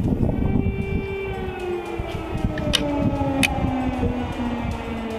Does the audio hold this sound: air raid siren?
yes